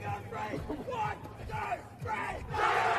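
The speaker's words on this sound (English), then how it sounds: "As we hear the cheer of the boys from New Plymouth." Boys from New Plymouth chant and bellow together at a secondary-school hockey game, a rhythmic group cry with loud pulses, swelling to a louder burst at the end.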